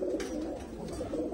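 Pigeons in a loft, including a newly settled pair, cooing steadily in low throaty murmurs that overlap continuously, close and alone without talk.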